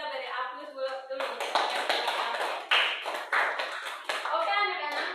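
A classroom of schoolchildren breaks into steady applause, a dense rattle of many small hands clapping with a teacher's voice and children's chatter over the start.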